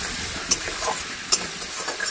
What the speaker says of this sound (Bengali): এখানে আলু পেঁয়াজ ভাজা করছি